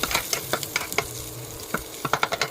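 Garlic and onions sauté in a pan for a tomato shrimp dish, a spoon or spatula knocking and scraping the pan in quick irregular clicks over a low sizzle, close up with no talking.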